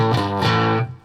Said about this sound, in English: the distortion on that sounds real